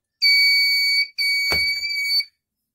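A 220 volt industrial indicator buzzer sounds two loud, steady high-pitched electronic tones, each about a second long with a brief gap between, with a short click during the second tone.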